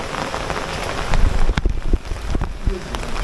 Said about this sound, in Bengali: খুব খুব খুব বৃষ্টি পড়ছে এখানে